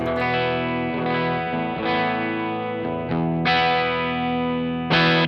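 Electric guitar through a Ridgewood Buckaroo pedal into a Bassbreaker 007 amp on a clean tone, sustained chords with a touch of grit, strummed a few times with ringing notes between strums, alone without talking.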